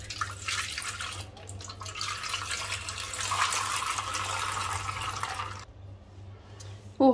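A liter of milk pours into a cooking pot in a steady, close liquid stream for about five seconds, then stops abruptly, followed by a brief clink at the end.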